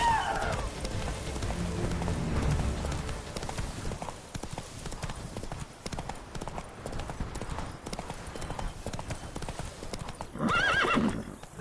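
Roach, Geralt's horse in The Witcher 3, trots with dense close clip-clop hoofbeats, snorts and a whinny near the end, while light rain patters in the background.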